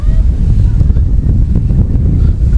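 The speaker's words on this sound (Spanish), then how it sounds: "Hay mucho aire, a ver si alcanza a oír." Strong wind buffets the microphone on a California beach, a loud continuous low roar with waves surging beneath it, no talk.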